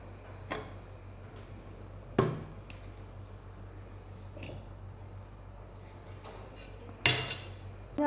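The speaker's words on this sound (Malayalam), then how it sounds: "നമ്മുടെ ചട്ടി അടുപ്പത്ത് വെച്ച് കൊടുക്കാം" A clay cooking pot is set on a kitchen stove, giving a few scattered dull knocks and sharp clinks against a quiet background, the loudest near the start and again toward the end, with no talking.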